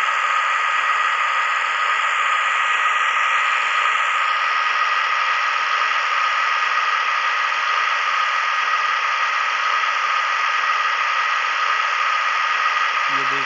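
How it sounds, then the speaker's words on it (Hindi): A tractor engine drones steadily as it plows a field in a farming video game, a constant, loud mechanical hum with no breaks, playing alone and unchanged throughout. "ये देखो दोस्तों ये ट्रैक्टर चल रहा है जो कि जुताई कर रहा है।"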